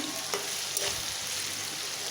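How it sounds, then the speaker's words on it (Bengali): Potatoes seasoned with chili and salt fry in hot oil in a pot, giving a steady close sizzle with a couple of brief stirring clatters, and no voices. "আমি আলুটা ভাজতে বসাই দিছি"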